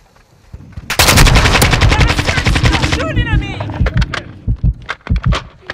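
Sentry gun in Call of Duty Modern Warfare 2 opens up in a loud, rapid automatic burst lasting several seconds, then trails off into scattered single shots, with voices briefly heard in the mix.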